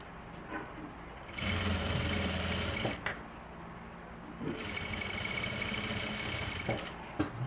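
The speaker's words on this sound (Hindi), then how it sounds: "तो ये मैंने सिलाई लगा दी है" A sewing machine stitches women's trousers in two quiet, steady runs of rapid whirring, separated by a short pause, with light handling noises in between.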